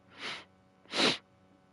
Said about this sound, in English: Oh god, I'm gonna sneeze again.